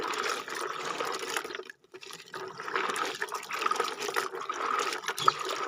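Raw peanuts are washed by hand in water to rinse off soil, with soft sloshing, swirling and trickling splashes close by, continuous apart from one short pause, and no talking.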